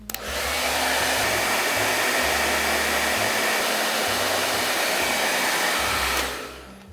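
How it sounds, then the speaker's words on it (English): Hairdryer blowing on shoe wax polish on a leather shoe, a steady loud close whoosh of fan noise that switches on, holds for about six seconds, then cuts off. "turn on my hairdryer one more time"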